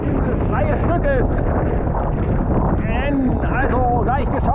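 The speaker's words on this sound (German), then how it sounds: "Allerdings pfeift hier gerade ordentlich der Wind." Strong wind roars and buffets the microphone continuously during winter paddling in neoprene, loud and close, with someone speaking faintly through the gusts.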